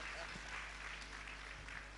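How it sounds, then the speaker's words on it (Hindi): A crowd applauds at a religious discourse in Ramgarh, a faint, steady wash of clapping from a distance over a low hum, lasting about two seconds. "तालियां बजाओ ना जोरों से, अपने लिए तो बजाओ।"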